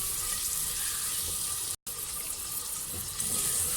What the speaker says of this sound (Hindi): चिकन को थोड़ा ही फ्राई करेंगे